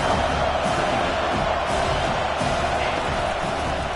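Stadium crowd roaring steadily during a video game American football match, a loud continuous wash of cheering with no break.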